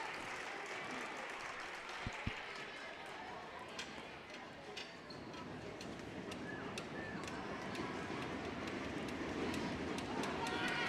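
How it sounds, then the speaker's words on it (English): A basketball crowd in a school gym swells in noise during a free-throw attempt, a dense roar of voices and scattered claps building toward the end, with a commentator talking over it. "Crowd getting loud"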